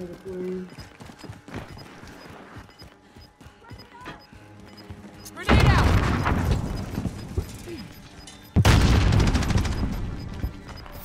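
In a battle royale video game, two loud, booming grenade explosions burst a few seconds apart, each followed by a rumbling tail, after quieter footsteps and game noise, with players' voices in the mix.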